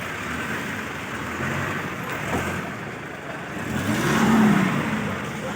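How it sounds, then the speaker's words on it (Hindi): A jeep on a mountain route toward Neelum Valley pulls away with a close, steady engine drone that swells into a louder rev toward the end, over rough road and wind noise. "ये हमारी गाड़ी चलने लगी है"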